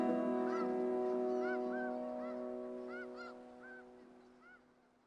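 Migrating geese honking over wetlands at Izembek National Wildlife Refuge in Alaska, scattered calls repeating at irregular intervals over a steady tonal hum, fading toward the end.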